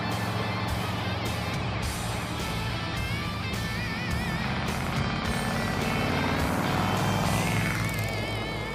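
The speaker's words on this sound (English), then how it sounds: "Man, the exhaust is loud." A 1963 Chevy Impala rat rod driving with a loud, raw exhaust, a steady heavy engine drone with road rumble continuing throughout, plus high whine and chirping tones above it.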